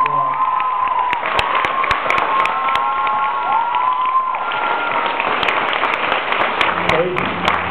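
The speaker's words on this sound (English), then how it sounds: "I have to give you a round of applause." A packed fan convention Q&A crowd in Paris applauds and cheers Ian Somerhalder, with loud, continuous clapping, shouts and whoops, and a voice talking over the din.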